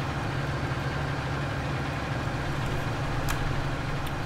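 A tractor engine in Farming Simulator 19 runs at a steady low idle-like drone, loud and continuous, with a brief click near the end.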